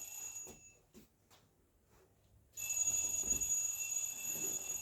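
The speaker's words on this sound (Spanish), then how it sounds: "Vamos a introducir el celular sonando a la bolsa." A mobile phone ringing as it is put into a bag, a muffled electronic ring that drops out for a moment and then returns clearly and steadily, close by, with no talking.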